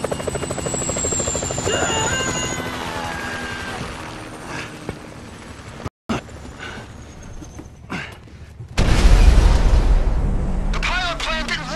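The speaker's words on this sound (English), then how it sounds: "Bring down the chopper, Trev." A helicopter in Grand Theft Auto 5 drones loudly with a steady rotor whine, cut by a brief dropout, then a heavy rumble with game dialogue and voices over it.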